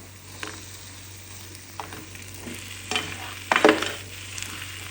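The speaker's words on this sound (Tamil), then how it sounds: "இதை நல்லா இப்போ கிண்டிக்கிடுவோம்" Ginger garlic paste stirred into mashed paneer with ghee in a pan for a paneer sandwich filling: a soft low sizzle with a handful of scraping stirs, the last a louder burst of spoon on pan.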